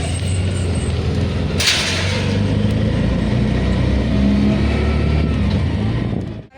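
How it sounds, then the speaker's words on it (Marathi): An auto rickshaw carries passengers home from Vashi wholesale market in Navi Mumbai, its engine droning loudly and steadily from inside the cabin with road rumble and a brief rush of passing traffic. "बघा रिक्षामध्ये बसली आहे."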